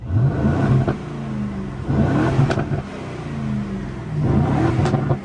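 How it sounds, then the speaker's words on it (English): An Aston Martin DB12 on its standard stock exhaust revs in sport mode, with three loud rising blips separated by brief drops back toward idle, close by with no voices. "And listen to this is a standard exhaust."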